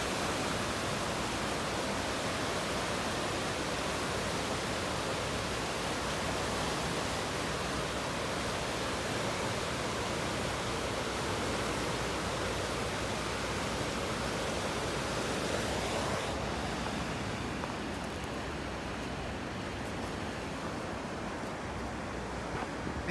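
Steady, loud rush of water pouring over a river dam, a broad unbroken roar that softens slightly near the end.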